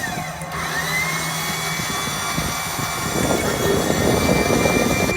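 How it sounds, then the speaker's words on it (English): A Liftmoore 2700AR crane mounted on a 2013 Chevrolet 2500HD work truck with a 6.0 Vortec runs, giving a steady electric-hydraulic whine and hum that grows louder and rougher partway through. "Real quick crane operation on it."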